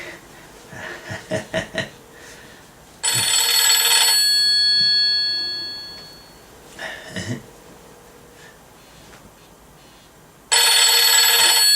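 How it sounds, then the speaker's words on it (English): Telephones ringing in loud, sustained electronic bursts, one long ring followed after a pause by another, with brief breathy chuckling and small noises between rings. "the phones are ringing"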